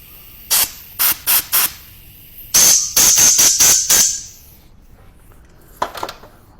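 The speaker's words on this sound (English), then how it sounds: "I'm going to put a puff of air, blow any kind of debris out through that tube" Compressed air blown through a tube on a 1974 Harley-Davidson Shovelhead engine to clear out debris: four short loud hissing puffs, then a longer broken blast, and after a pause a few fainter bursts, close up with no talking.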